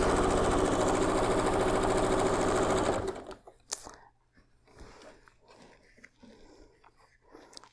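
A sewing machine runs steadily for about three seconds, stitching the last seam of a big Churn Dash quilt block up close, then stops, leaving quiet handling noises and faint soft sounds.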